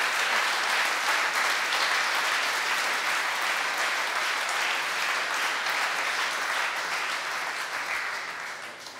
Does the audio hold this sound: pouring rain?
no